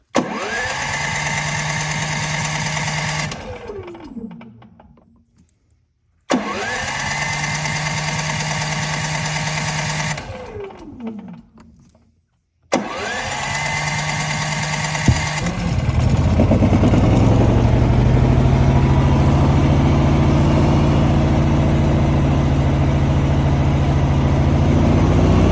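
A Predator portable generator cranks and cuts out twice, then catches on the third try and settles into a loud, steady close-up engine drone that runs without voices.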